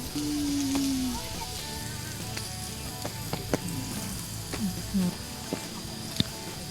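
Pork sizzles and crackles steadily on a hot Thai tabletop grill at a campsite in Khao Yai, with scattered pops and a faint voice now and then in the background.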